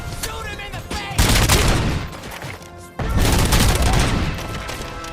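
Heavy gunfire in the Robocop Rogue City video game, loud sustained bursts of shots with two long dense volleys broken by a brief lull.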